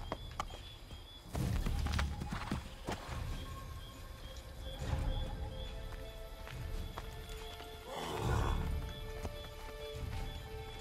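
Horse hooves clop in Assassin's Creed III amid steady rain and game ambience, with irregular thuds and a louder burst of movement near the end.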